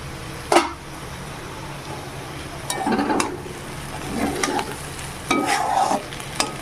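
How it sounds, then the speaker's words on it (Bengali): Potatoes fry in a pan that is covered now and then, giving a soft continuous sizzle broken by several louder bursts of stirring and scraping, with a sharp knock near the start. "এইভাবে কয়েকবার একটু একটু করে ঢাকা দিয়ে দিয়ে আলুটাকে ভেজে নেব"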